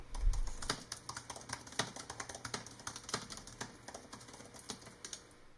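Rapid, uneven clicking of keys being typed on a 2018 15-inch MacBook Pro keyboard, close and fairly quiet, with no voices.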